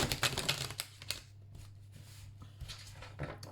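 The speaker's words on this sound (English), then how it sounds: "I think I'm going to shuffle this one more time." Tarot cards being shuffled by hand, a quiet, close series of soft riffling and tapping bursts that pause briefly midway before resuming, with no talking.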